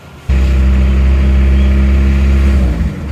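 An Isuzu Panther 2.3 diesel engine catches and runs loud and close, a deep steady rumble that starts abruptly after a brief quiet moment and holds until near the end.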